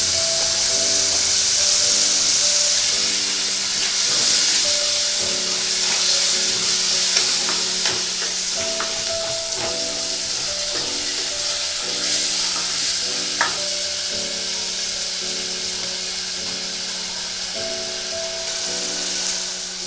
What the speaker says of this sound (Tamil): அதோடு கொஞ்சம் இஞ்சி பூண்டு பேஸ்ட் இப்போ எல்லாத்தையும் சேர்த்து நல்லா வதக்கி விடுங்க